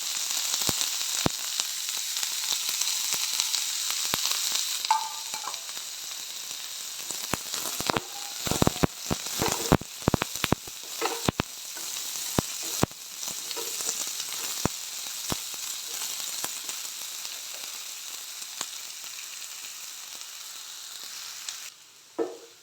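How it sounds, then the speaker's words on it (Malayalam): Finely chopped medium onion frying in hot oil gives a loud, continuous close sizzle. Clusters of sharp crackles and stirring knocks come mostly in the middle stretch, with no voices. "സവാള എല്ലാം നല്ലോണം വഴണ്ടി വരുമ്പോൾ ശേഷം ഉപ്പ് ചേർത്ത് കൊടുക്കുന്നു"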